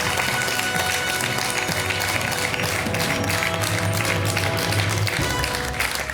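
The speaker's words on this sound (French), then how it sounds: "Laurent, chaleureusement applaudi par le public de Questions pour un champion" Studio audience of the French quiz show Questions pour un champion applauding warmly, a dense, steady wash of clapping that holds at full strength throughout, with faint music underneath.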